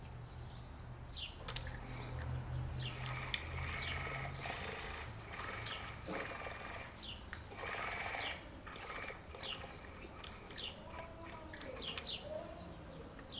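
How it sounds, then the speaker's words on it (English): A sewing machine runs in repeated short bursts while topstitching along the fly edge of pajama trousers, with faint bird chirps in the background. "Now, I'm going to top stitch along this edge."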